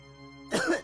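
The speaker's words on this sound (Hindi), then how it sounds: "अंदर मुझे बहुत खांसी आ रही थी" A single short, harsh cough from a man, close and fairly loud, following a low steady hum.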